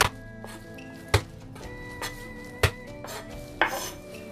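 Three washed garlic cloves are smashed flat for a pumpkin vegetable dish, giving three sharp, close thuds on a cutting board with a few lighter clinks between them.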